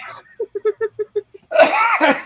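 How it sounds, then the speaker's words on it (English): A short series of about eight quick, evenly spaced coughing bursts, close and fairly loud, followed by a louder breathy vocal outburst like a sneeze or laugh. "You're coughing again."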